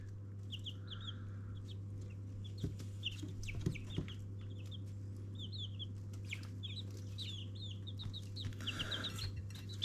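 Backyard hens in their run cluck and murmur in scattered short bursts over a steady low hum, fairly faint and continuing throughout.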